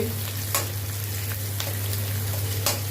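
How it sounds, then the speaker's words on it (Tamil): Onions sautéing in a pan, a loud steady sizzle with a few sharp scrapes of a stirring spoon, close, over a low constant hum. "நல்லா பச்சை வாசனை போகிற மாதிரி நல்லா வதக்கணும்"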